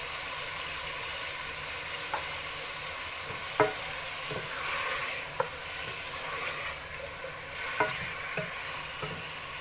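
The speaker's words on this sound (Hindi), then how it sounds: "थोड़ा सा भूनेंगे" Onions and spices frying and being stirred in a pot for beef haleem, a steady close sizzle with several sharp scraping knocks of the spoon against the pan; no talking.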